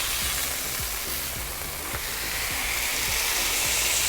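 Smashburgers sizzle on a hot home griddle, a steady bright frying hiss with faint scraping taps underneath throughout.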